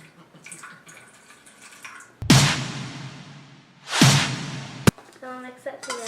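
Water pours in two loud, splashy gushes into a dish soap and paint mixture, each lasting about a couple of seconds, with quieter handling sounds around them.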